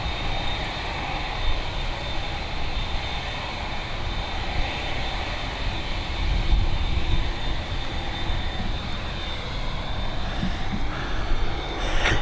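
An Airbus A320neo jet airliner on the runway at Dublin Airport gives a loud, sustained engine roar with a steady whine on top, swelling slightly partway through, and no voices.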